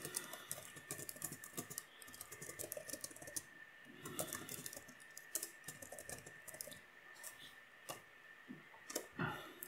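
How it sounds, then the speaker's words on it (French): Steady, fast typing on a computer keyboard, close and fairly quiet, with irregular bursts of key clicks running throughout and a faint background tone. "Je tape un texte."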